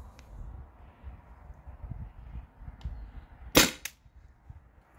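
A modded Byrna TCR launcher running on an HPA tank fires over a chronograph, one sharp close pop with a quick second crack right after, against a faint background rumble.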